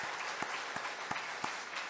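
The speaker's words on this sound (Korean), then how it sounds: "정말 애쓰셨다고 박수 한번 격려해 주시고." Church congregation applauding a visiting pastor's wife during a Korean service in Auckland, New Zealand; a steady, dense wash of many hands clapping at moderate volume, with a few sharper claps poking out.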